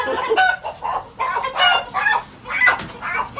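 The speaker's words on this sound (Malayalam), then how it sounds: "നാടൻ കോഴി അല്ലെ ഇത്" Several free-range chickens cluck and squawk close by in loud, drawn-out bursts, overlapping calls rising and falling in uneven waves.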